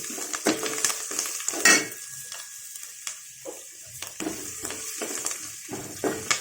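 Green chillies and a tempering crackle and sizzle in a pan while a papaya curry is made. The frying runs throughout, with repeated scraping strokes of stirring and a sharper clatter near the start, and no voices.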